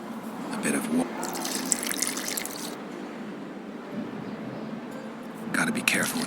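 Water poured in The Witcher 2, a soft liquid trickle and splash running under game dialogue, with brief bright bursts near the start and end.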